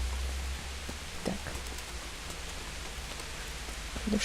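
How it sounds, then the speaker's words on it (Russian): Steady rain in the video game Kingdom Come: Deliverance patters softly on surfaces, a continuous gentle hiss with occasional drips, fairly quiet and with no voices. "Дождь идет."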